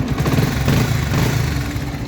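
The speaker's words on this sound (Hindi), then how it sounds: "देखें बाइक स्टार्ट है।" A Bajaj Pulsar 150 motorcycle idles after a battery fuse fix, a steady, low, thumping engine rumble held for about two seconds, close and unbroken, with no talking.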